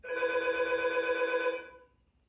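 A single electronic doorbell tone rings steadily for about a second and a half, then fades out, fairly faint in a quiet room.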